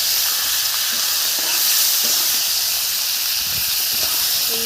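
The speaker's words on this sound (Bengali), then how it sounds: "এখন আমি নুন হলুদ মাখানো মাছের মাথা তেলের মধ্যে ঢেলে দিলাম।" Katla fish head rubbed with salt and turmeric sizzles in hot oil, a dense steady hiss that runs loud and unbroken throughout, with faint scattered crackles.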